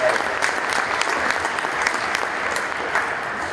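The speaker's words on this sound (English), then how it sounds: "that is worthy of applause" An audience at an Americans with Disabilities Act 32nd anniversary commemoration breaks into steady applause, dense clapping in a large room that holds evenly before easing slightly.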